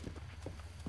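A horse's hooves clip-clop in a quick, soft rhythm in Zelda: Breath of the Wild, a few faint thuds over a low game background hum.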